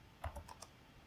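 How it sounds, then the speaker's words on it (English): A computer keyboard clicks in a quick run of about five soft keystrokes as a command is typed, quiet and close, with nothing else heard. "if I type ifconfig"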